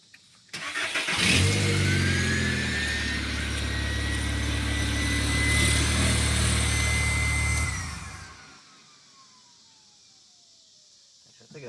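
A 2002 Volkswagen Jetta engine cranks and catches, then runs with a loud, steady idle and a light rev for several seconds before cutting off, leaving near silence.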